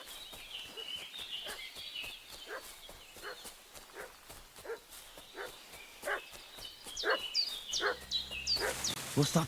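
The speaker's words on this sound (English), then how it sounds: "What's that dog making such a fuss about?" A dog barks repeatedly in Kingdom Come: Deliverance 2, a rhythmic string of sharp barks that grows louder and more frantic toward the end, set against faint outdoor ambience.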